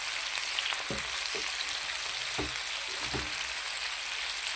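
Capsicum and onion fry in a pan for a restaurant-style capsicum curry, making a dense, continuous close sizzle with a few soft stirring knocks underneath.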